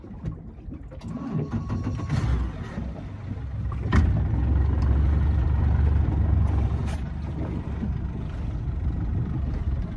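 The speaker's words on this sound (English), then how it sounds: "I will put the boat in reverse and catch up to that." An offshore fishing boat's engine runs in reverse on open water off Sydney, a continuous low rumbling drone that swells louder partway through and holds steady, with no voices.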